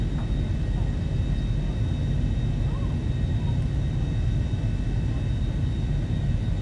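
Boeing 737-800 engines at takeoff power in the X-Plane 11 flight simulator, a steady, loud broadband jet roar and rumble that holds constant throughout without breaks.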